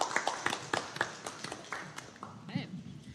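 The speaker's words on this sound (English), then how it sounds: "Give yourselves a round of applause for being here" Scattered hand claps from an audience at a public committee meeting, a few sharp individual claps tapering off over a few seconds, with a voice speaking near the end.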